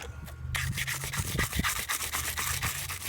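Sandpaper scrubs the corroded terminals of an old car battery in a 2009 Toyota Camry LE, giving a steady run of close, rhythmic rasping strokes with no talk.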